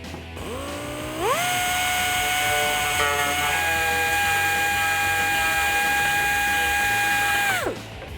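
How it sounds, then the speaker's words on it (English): Electric deburring tool spinning up and cleaning an oval hole in a rear diffuser for a 2015-2021 Dodge Challenger, a high steady whine for several seconds that winds down at the end. "We have a deburring tool here. We're just gonna use this for speed."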